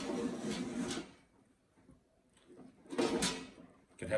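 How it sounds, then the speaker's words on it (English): The basket drawer of a Kmart Anko twin air fryer slides in and out with two bursts of plastic scraping and sliding, heard close up with a quiet gap between them. "put the drawer back in"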